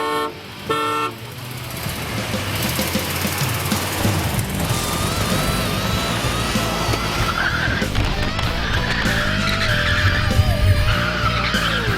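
Loud, continuous engine roar from a van and wagon racing, with squealing tire skids rising and falling and a short horn toot near the start, all close and without speech.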